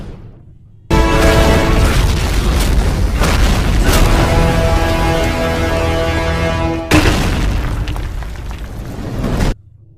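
A loud, sustained booming blast with a dense roar and crackle that runs for several seconds, cuts briefly, then surges again before ending abruptly.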